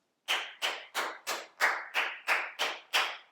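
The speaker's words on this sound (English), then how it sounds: "Clapping like that clears the energy." Bare hands clap nine times in an even, unhurried rhythm to clear a room's energy, each sharp close clap ringing briefly in the space before the next.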